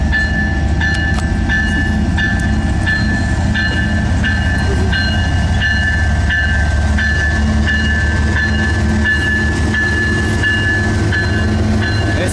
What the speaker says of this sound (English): CN leading a CP train, alright.